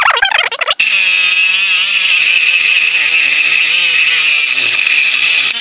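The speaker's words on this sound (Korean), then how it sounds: "철제형 컷소날로 날도 바꿨거든요. 제가 또 한번 잘라볼게요." A 12-volt reciprocating saw fitted with a metal-cutting blade grinds through a thick steel anchor bolt, a loud, steady high-pitched buzzing rasp that runs continuously after a brief start.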